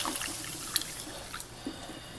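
Water poured from a measuring cup into a cup of dry grits for microwave cooking, a quiet trickle and splash with a few small clinks, close by.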